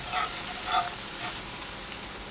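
Onions sizzle steadily in a hot pan, a continuous hiss with a couple of faint stirring touches, close up and alone.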